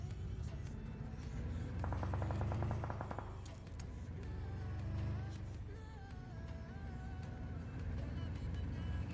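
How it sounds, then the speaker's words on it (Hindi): Gunfire from another player in the BGMI battle royale game: a quick burst of automatic shots rattles off at a distance over a steady low engine drone, faint overall. "यहाँ पे राइट साइड से एक और मेरे को बंदे का गन साउंड आता है"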